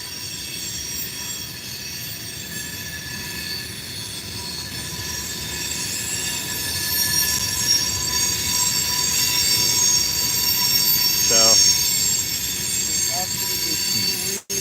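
A heavy freight tank train rolls around Horseshoe Curve with a constant rumble while its wheel flanges squeal loudly and continuously; a brief spoken word comes near the end.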